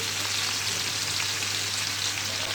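Sliced carrots and sweet peppers frying for jollof rice give off a dense, even sizzle with fine crackling that holds steady throughout, close and moderately loud, with no voices.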